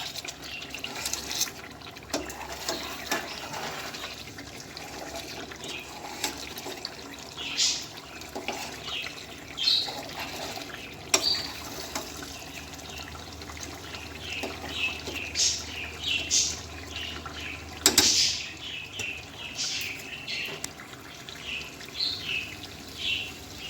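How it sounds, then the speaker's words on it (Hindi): Water is poured into a pan of kofta curry masala, giving a steady splashing, trickling wash that continues throughout with small louder splashes, close up, and faint birdsong in the background. "अब हम इसमें पानी शामिल करेंगे जितना हमें पानी चाहिए होगा"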